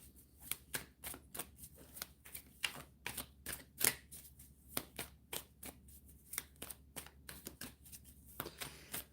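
Yes-or-no cards riffled and handled in a rapid run of crisp paper flicks and snaps, close and fairly loud, pausing briefly between bursts with no voices.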